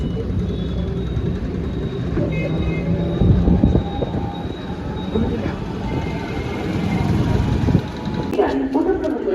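Low rumbling of an express train rolling into platform 5 at a busy Indian railway station, with clanking and a faint wheel squeal, amid a crowd murmuring on the platform.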